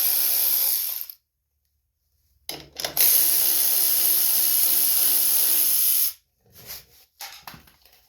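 A power tool whirs in two long, loud, close bursts with a silence between while 10mm nuts come off a Selbro Pro Blow Xtreme Air leaf blower carburetor, followed by short clicks and rattles.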